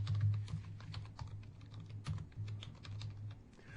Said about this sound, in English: New customer, type in Candy Charles